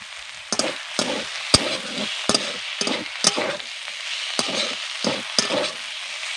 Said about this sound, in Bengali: এবার কিছুক্ষণ ধরে গিমা শাকগুলোকে নেড়ে নেড়ে ভেজে নেব।